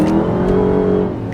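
A Dodge Hellcat revs hard under acceleration, its engine note loud and close with a steady rising drone over a short burst, and no voices.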